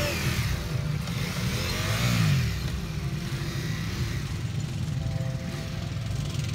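Ducati Multistrada 2022 motorcycle engine on an off-road obstacle course, a steady close drone that swells briefly in a rev around the middle, with the throttle and clutch worked at low speed.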